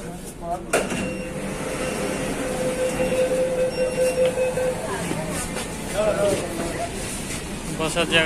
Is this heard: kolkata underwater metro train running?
yes